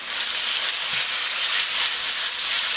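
Roughly 12 ounces of cut sirloin steak sizzling in hot oil for Thai drunken noodles, a steady loud hiss with no talk.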